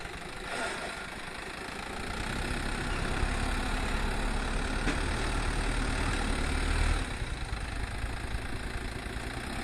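A New Holland 7556S tractor engine rumbles steadily nearby while pulling a plough, growing slightly louder midway, a continuous low mechanical drone.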